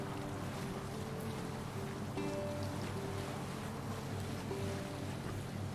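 A boat sails over waves in Assassin's Creed Valhalla, with a continuous wash of water and wind against the hull. The sound is steady and fairly quiet throughout, and no one speaks.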